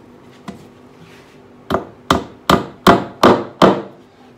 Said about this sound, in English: I'm going to insert this finishing nail.